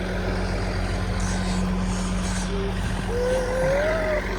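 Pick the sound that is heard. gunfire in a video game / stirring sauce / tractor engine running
tractor engine running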